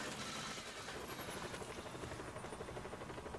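A remote-controlled helicopter flies in the video game Just Cause 4, its rotors making a steady, loud, continuous thrum that fills the whole stretch with no talking.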